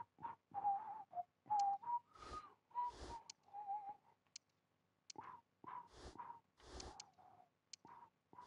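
Someone whistles a theme tune in short, bright phrases with brief breaks between them, close and fairly loud, with quiet clicks in the gaps.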